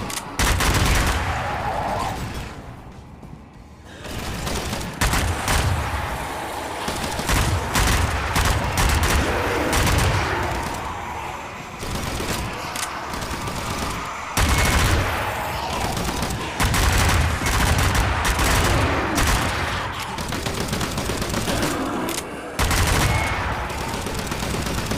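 Enemy soldiers keep up heavy, continuous gunfire in the Zombie Army shooter, with rattling automatic bursts and single shots layered loud and close for the whole span. One brief lull comes early on.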